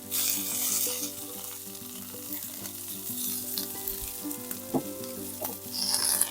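Flank steak sizzling loudly in olive oil in a hot pan, a constant close crackle and hiss with occasional pops, no talking.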